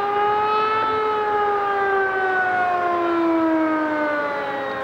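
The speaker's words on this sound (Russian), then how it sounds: "на улице во всех частях города раздается вой сирен" Civil defense sirens wail steadily throughout during a warning system test in Cherepovets, their long rising and falling tones carrying loudly across the city with no voices.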